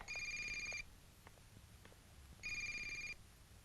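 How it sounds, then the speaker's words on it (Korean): A telephone rings in two electronic bursts separated by a short gap, moderately loud indoors over a quiet room. "여보, 전화."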